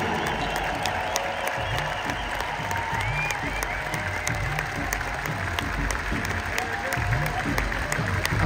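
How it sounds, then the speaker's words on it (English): A large concert audience at a 2023 Peter Gabriel show in Stockholm applauds steadily and continuously, a dense wash of clapping with some faint crowd noise underneath, sustained at an even level throughout. "please give a huge round of applause to all of our crew"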